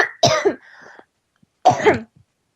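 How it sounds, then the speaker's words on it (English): A person coughs twice, harsh throaty bursts separated by a short pause, close and fairly loud with no speech between them. "sorry, I have to cough again"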